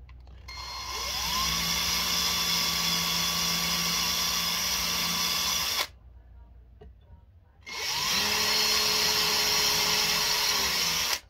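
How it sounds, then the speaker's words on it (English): A power drill bores into the wood of a cigar box guitar build, whining steadily at high speed in two long runs separated by a short pause, loud and close. "Just don't want to drill all the way through"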